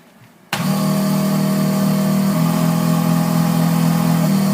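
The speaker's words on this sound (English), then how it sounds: "So I'm going to start up the smoke machine here." Smoke machine running steadily for an evaporative leak test on a 2011 Mazda 3, starting abruptly and holding a loud, even motor hum with a constant drone throughout.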